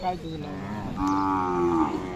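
A single Khillar cow moos at a cattle market in Sangola, a low drawn-out call rising in the second half, close by with faint background noise.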